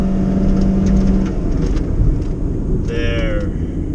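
A 2023 Honda Brio 1.2-litre four-cylinder CVT accelerates at full throttle, a steady droning engine tone in the cabin with a rising whine toward the end.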